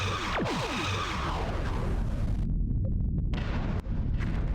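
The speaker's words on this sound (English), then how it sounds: "Torpedoes ready." Starship torpedoes launching and exploding in the space combat game Star Trek Bridge Commander: a steady, dense roar of booming blasts with a descending whistling launch near the start, loud and continuous throughout.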